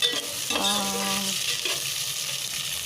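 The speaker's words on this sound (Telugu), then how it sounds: "పచ్చిమిర్చి వేగాక కొద్దిగా అందులోకి ఆనియన్స్ యాడ్ చేశాను" Green chilies and onions fry in a pan with a steady, close sizzle and stirring, briefly marked by a tonal clink partway through.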